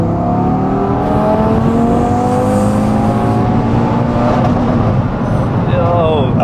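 Stage 2 tuned Audi RS3 engine revving hard up to its raised 7,400 RPM rev limiter, a loud, sustained climbing roar with rising harmonics that bounces off the limiter near the end, heard up close outdoors.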